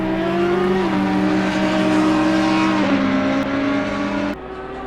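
GT3 race cars in Assetto Corsa Competizione racing down the straight at the Nürburgring; a loud, sustained engine whine with pitch steps at gear shifts, then an abrupt drop in level near the end.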